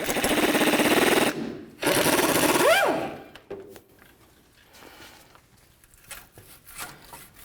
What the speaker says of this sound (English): we're going to come under here with our socket and remove the shaft of the sway bar link